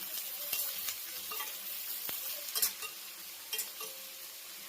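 Sliced onion, green chilies and curry leaves fry in a pan, a soft, fairly quiet sizzle broken by light clinks and scrapes of a spoon stirring.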